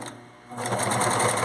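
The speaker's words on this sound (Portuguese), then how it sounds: "Vou colocar lá na máquina e vou fazer uma costura reta de fechamento" A sewing machine starts up after a short pause and runs a straight closing seam, giving a fast, even, close mechanical whir with a steady stitching pulse and no talking.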